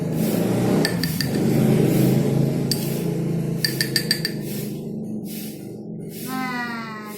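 Glass tinkling and clinking as a soil and water mixture is stirred in a glass for a school mixture-separation experiment, several bright clinks in small clusters over a steady low background hum, with no talking.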